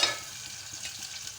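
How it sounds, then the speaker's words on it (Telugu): Onions and green chillies frying in hot oil for a brinjal masala curry, a soft steady sizzle that runs throughout this short moment at low volume. "ఉల్లిపాయలు కూడా వేయించుకోవాలండి."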